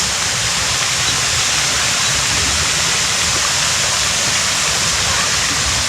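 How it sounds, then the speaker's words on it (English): Loud, steady rushing of running water fills the clip, a constant broadband roar like a nearby stream or waterfall. "we can hear the running water, which is nice"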